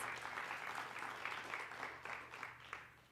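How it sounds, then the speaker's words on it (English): Applause for the speakers at a YYC Connector networking event, a fairly quiet, distant patter of clapping with a low steady hum underneath, lasting a few seconds. "A round of applause for them."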